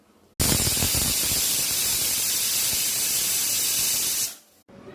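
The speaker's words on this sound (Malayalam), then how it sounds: "ഇനിയും 2 വിസിൽ വരുന്ന വരെ നമുക്കൊന്ന് വെയിറ്റ് ചെയ്യാം." A pressure cooker boiling eggs vents steam in one loud, continuous hiss lasting about four seconds, starting abruptly and tapering off at the end, with no talking.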